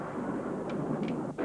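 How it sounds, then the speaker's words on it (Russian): Thunder from the year's first thunderstorm rumbles as a broad, steady roll filling the whole short stretch, fairly loud, with no voices over it. "Слушай, гроза! Первая в этом году!"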